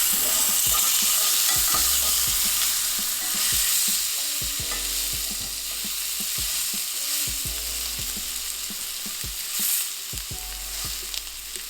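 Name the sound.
steak fat cap searing in cast iron pan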